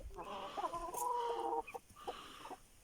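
Hens and roosters cluck and call in a poultry flock of aseel birds, a drawn-out squawking call rising to a loud stretch then breaking off, followed by quieter clucks nearby.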